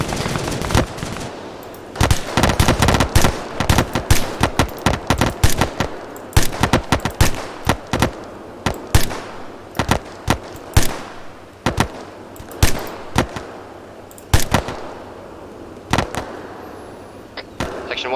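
Heavy gunfire in ArmA 3 during a British airborne section training battle, with dense bursts of rifle and machine-gun fire cracking loud and close, almost continuous, and occasional radio voices underneath.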